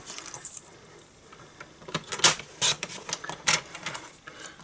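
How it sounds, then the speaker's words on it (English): A paper trimmer slices through card for a handmade Christmas ornament card, giving a few sharp, close scraping cuts in quick bursts against a quiet background. "So I'm just going to cut it using my trimmer."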